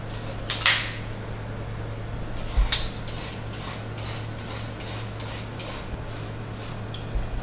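Carrots being peeled by hand, soft repeated rasping scrapes in a steady rhythm with a couple of sharper clicks, close by, under a constant low kitchen hum and with no one talking.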